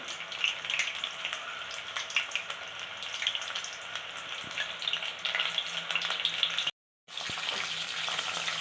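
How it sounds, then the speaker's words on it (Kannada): Mushrooms for a mushroom dry gobi dish fry steadily over medium heat in a pan, a continuous loud sizzle with occasional stirring scrapes and a brief cut-out near the end. "ಇವೆಲ್ಲ ಹಾಕಿದೆ ಮಶ್ರೂಮು ಇವಾಗ ಅದನ್ನು ಒಂದು ಸರಿ ತಿರುಸು ಹಾಕ್ತಾಯಿದ್ದೀನಿ"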